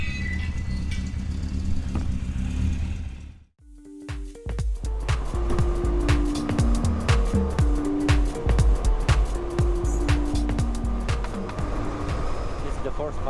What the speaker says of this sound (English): This is the first proper spin out on the bike.